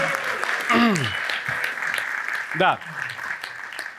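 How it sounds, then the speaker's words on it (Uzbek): A studio audience at an Uzbek comedy game show applauds the participants, with steady clapping under loud whoops and raised voices from the stage. "Ishtirokchilarimizga bitta qarsaklaringiz."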